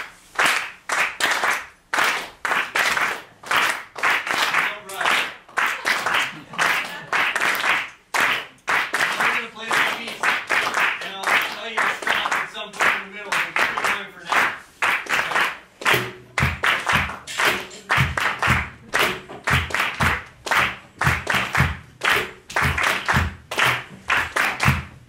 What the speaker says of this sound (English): I need some people to clap like this